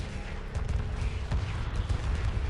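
Missile and ion cannon fire pummels a destroyer in Homeworld Remastered, rendered as a dense, continuous rumble of distant blasts and crackling fire, steady and unbroken, with no talk.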